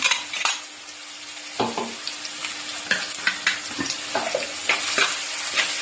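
Crushed shallots sizzle in a hot pan, with a spoon clinking and scraping the pan in irregular taps, close and clear.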